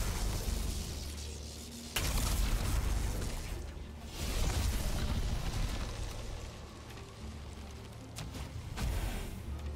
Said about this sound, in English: And use shotguns like this.